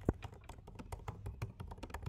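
Rapid typing on a computer keyboard while a note is entered, a steady stream of close, crisp key clicks with irregular rhythm and no voices.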